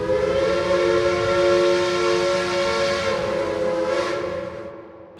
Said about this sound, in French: L'avertisseur de la locomotive résonna à plusieurs reprises, brisant le silence de la nuit